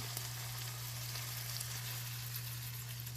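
Chopped beef for chili frying in a pan, an even, close sizzle that holds steady throughout with a low electrical hum underneath and no voices.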